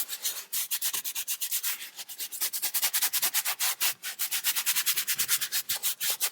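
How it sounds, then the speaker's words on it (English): A brush scrubs leather in quick circular strokes, producing a steady, close rubbing and scratching that pulses rhythmically throughout, with no talking. "in circular motion, scrub the leather very well"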